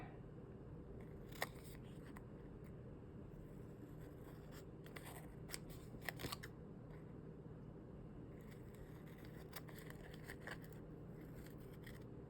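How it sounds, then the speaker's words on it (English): Scissors trim the overhanging edges of gold foil washi tape on a paper journal page, a few soft, faint snips and paper rustles coming in short clusters over a low steady room hum. "flip it over and trim off any washi hanging over the edge"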